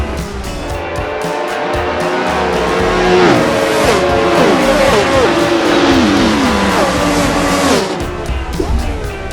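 Race cars in a 1967 Le Mans racing game on the Bugatti circuit, several engines revving and shifting through gears in overlapping rising and falling whines, loud and close with brief tyre squeal and no talking.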